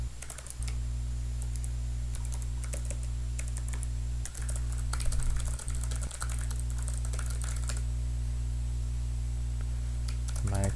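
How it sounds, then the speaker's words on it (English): Rapid clicky keystrokes on a Havit gaming keyboard come in bursts over a steady electrical hum during live coding, close and fairly quiet, with brief pauses between runs. "It's a Havit gaming keyboard."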